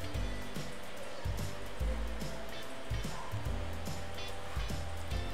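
An overlock serger runs continuously along a fabric edge, giving a dense, steady mechanical hum with rhythmic low thumps throughout.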